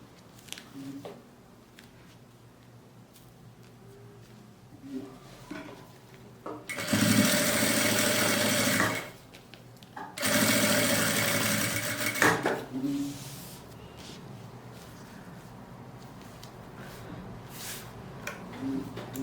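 A sewing machine stitches a transparent quilted pocket onto a fabric Bible or book cover, running in two loud, steady whirring bursts of about two seconds each, separated by a short pause, with quieter handling noises between.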